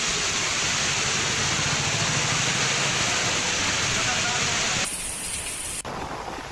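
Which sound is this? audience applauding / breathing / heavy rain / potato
heavy rain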